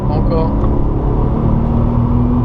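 Porsche 997 Targa 4S engine on a circuit at Circuit de Bresse, a steady low rumble held under continuous talk from an instructor in the car.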